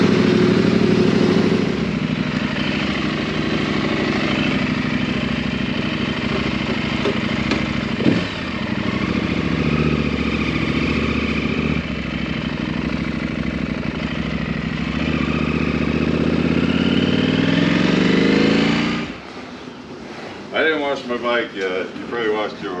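A 2023 KTM 890 Adventure R motorcycle engine runs loud and steady at close range for most of the stretch, its drone shifting slightly in pitch before cutting off near the end, with a few faint sounds after.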